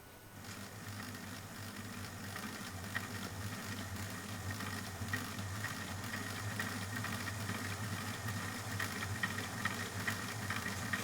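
A Hornby class N2 model locomotive's motor runs on a rolling road after a long idle spell, a faint steady electric hum and buzz with slight growly rattle that grows a little louder.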